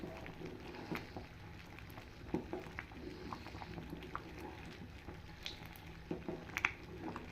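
Thick thothal halwa of flour and coconut milk bubbling in a pot in a Tuticorin kitchen, a steady low blurping simmer with scattered soft pops and plops, fairly quiet and continuous with no talk.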